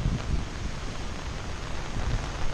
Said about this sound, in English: it's very windy and rainy